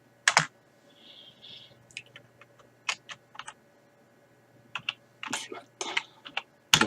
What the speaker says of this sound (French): Et là, vous tapez Python.